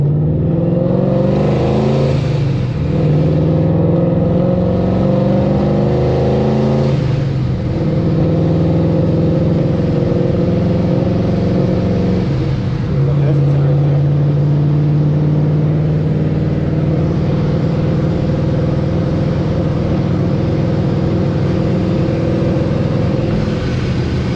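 A boosted car with a Ford 3V engine revs hard, its engine note climbing and falling through several loud pulls, heard up close from inside the car with a steady droning hum.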